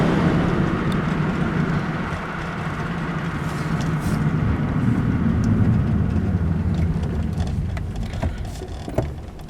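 A 2002 Nissan Maxima revving hard in third gear, its engine a steady, loud low drone with road rumble, struggling to pull, with a brief knock near the end.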